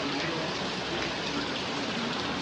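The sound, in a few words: rain falling outside hotel by swimming pool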